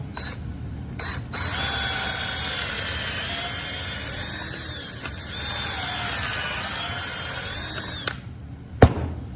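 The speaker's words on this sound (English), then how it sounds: "Drill that out." A power drill whines steadily for several seconds, its pitch wavering as it bites into wood, then stops with a short clatter at the end.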